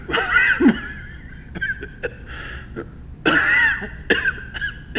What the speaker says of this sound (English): You know why you're coughing?